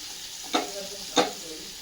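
Onion sautéing in a pan, a soft continuous sizzle with two brief stirring scrapes, close and moderately quiet.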